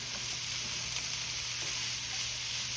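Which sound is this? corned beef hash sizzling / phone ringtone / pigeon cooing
corned beef hash sizzling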